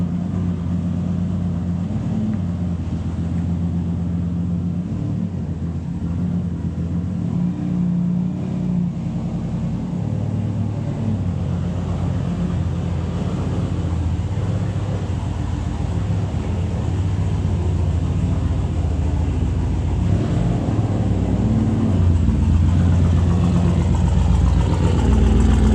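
A loud muscle car with a deep, rumbling exhaust idles close by at a car cruise, its low throbbing drone steady throughout with slight revs and no talk.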